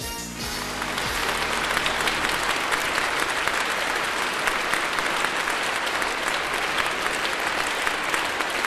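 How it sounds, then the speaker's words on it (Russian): Sustained applause from a large audience at the Miss Western Ukraine Bukovyna Open 2010 beauty pageant, loud and steady, rising just after the start and continuing evenly throughout. "Ваші аплодисменти, Лоленко Лілія."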